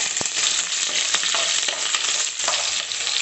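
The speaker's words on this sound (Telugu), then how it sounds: "ఇప్పుడు పచ్చిమిర్చి వేస్తానండి కొంచెం మగ్గడానికి" Green chillies frying in a pan while making poha, a dense steady sizzle with occasional stirring knocks, close and loud with no voices.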